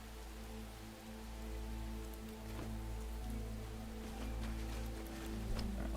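Steady rain falls on surfaces in the survival game Enshrouded, a dense continuous patter with a low rumble beneath and scattered louder drops, with no voice.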